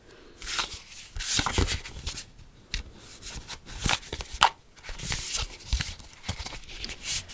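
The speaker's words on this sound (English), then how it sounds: "Don't mind my shuffling" Tarot cards being shuffled by hand in repeated riffling bursts, crisp and close, with short pauses between rounds and no talking.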